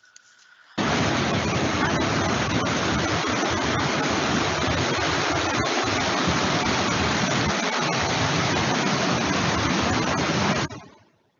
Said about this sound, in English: And I have a little video of the waterfall here after.